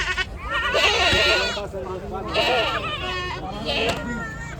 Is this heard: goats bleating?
yes